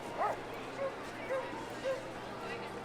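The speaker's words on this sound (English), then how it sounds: "Did you hear that? They barked." A few short, small yips or barks from a dog, spaced about half a second apart, faint over a low background hiss.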